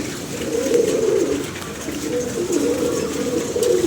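Pigeons coo close by in repeated low rolling phrases, one call flowing into the next over a light background hiss.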